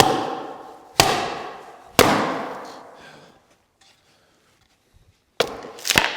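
Sharp, loud strikes ring out, two close together, a pause, then a quick cluster of hits, each decaying slowly, like hammer blows on steel ceiling panels or fiber cement siding.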